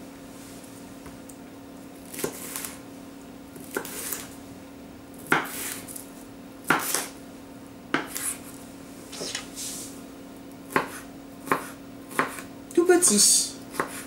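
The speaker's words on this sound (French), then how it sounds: "coupez les poivrons en brunoise" Knife chopping bell peppers into fine brunoise on a cutting board, a series of sharp separate taps spread irregularly, then a quick flurry of cuts near the end, with a steady low hum underneath and someone speaking briefly.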